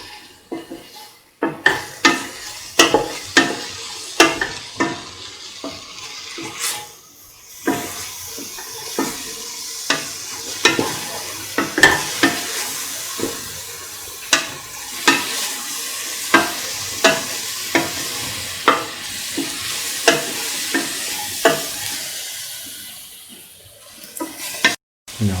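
Long yard beans stirred with garam masala in a pan, a continuous sizzling fry with repeated sharp scrapes and clanks of a spoon against the pan, close and fairly loud.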